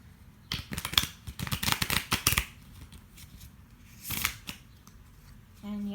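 Deck of reading cards being shuffled: a rapid series of riffling, flicking snaps, then a pause and a shorter burst of card sounds, close and crisp in a quiet room.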